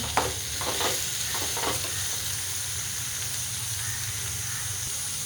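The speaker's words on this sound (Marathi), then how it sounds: "हळद टाकते दाना पावडर टाकते एक करून घेते" Turmeric and coriander powder are stirred into hot oil in a cooking pan, giving a steady sizzle and hiss, with a few scraping strokes of the spoon near the start.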